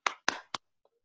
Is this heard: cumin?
no